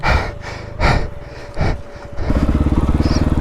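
Motorcycle engine running on a forest ride near Chitlang, a steady close putter with rhythmic pulses that rises in the last second, following several breathy bursts.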